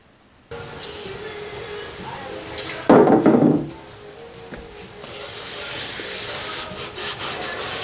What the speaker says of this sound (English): I'm wiping with acetone several times, getting it pretty clean.